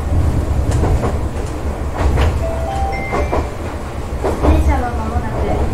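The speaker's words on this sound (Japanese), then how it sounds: "電車は間もなく緑のトンネルと呼ばれる区間を 通過いたします。" An electric train, the Super View, rolls on rails toward a forest stretch known as the green tunnel, giving a steady close low rumble with rhythmic wheel clicks and brief tonal motor whines rising over the running noise.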